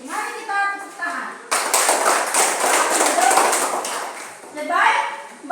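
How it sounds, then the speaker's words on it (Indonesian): Classroom applause for a student group that has just finished presenting its discussion results, a burst of clapping from the class lasting several seconds, with children's voices and a teacher speaking before and after it. "Mari kita tepuk tangan untuk kelompok 2 yang sudah selesai mempresentasikan hasil diskusi."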